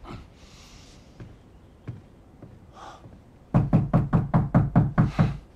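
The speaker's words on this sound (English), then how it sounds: "Banging at my door." In The Last of Us video game, a fist bangs on a door: a few scattered soft thuds first, then a loud, rapid run of about ten heavy knocks close by.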